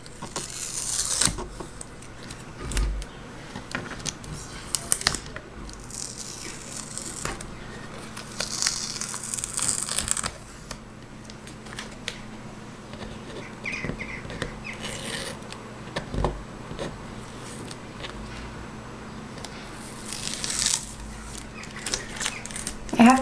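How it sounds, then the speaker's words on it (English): Washi masking tape peeled slowly and gently off watercolor paper on a table, giving close, intermittent crackly tearing bursts with quiet pauses between pulls. "I'm just gonna do it so that you know exactly how it is to peel the masking tape."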